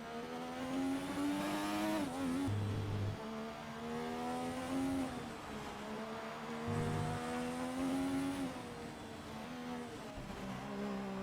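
An F1 car in the F1 2020 video game laps the short Suzuka layout in an invitational event, its engine whine climbing steadily and dropping sharply on each gear change, loud and continuous.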